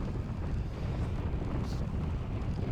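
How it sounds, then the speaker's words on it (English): Strong wind roars and buffets a microphone steadily while cycling at speed, a constant low rumble with no talking. "You can just see that there's a ton of wind."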